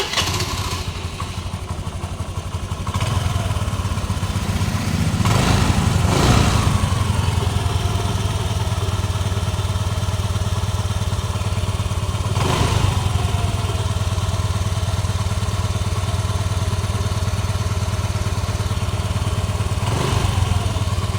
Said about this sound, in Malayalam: വണ്ടി സ്റ്റാർട്ടാക്കി നോക്കാം